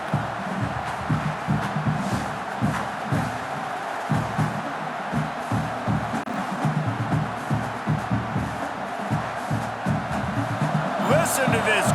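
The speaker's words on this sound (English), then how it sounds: "Listen to this crowd just shaking the girders of this place, trying to help their defense." A large stadium crowd at a college football game, SMU at Clemson, roars continuously under a commentator's steady talk, with louder swells and whoops rising near the end.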